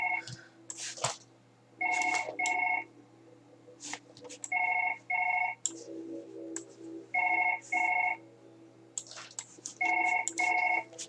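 A telephone rings in the Surgeon Simulator video game with repeated paired electronic rings in a steady pattern, loud and close, with someone talking in short bursts between the rings.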